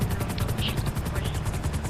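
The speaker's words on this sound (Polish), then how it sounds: "Podlecimy tam po prostu helikopterem." A helicopter in the video game GTA 5 thrums with a fast, steady rotor chop over a continuous engine whine, loud and close throughout.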